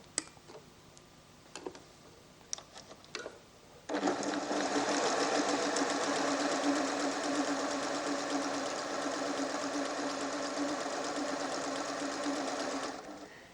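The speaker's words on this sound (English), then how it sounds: "Now I would like to sew on the sheer tricot." A PFAFF creative 1471 sewing machine with dual feed sews sheer tricot at a short stitch length. A few faint ticks come first, then a steady, close, continuous mechanical hum of stitching for about nine seconds.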